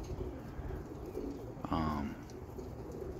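Roller pigeons in a loft give a soft, brief coo about midway through, close and fairly faint against a steady background hum.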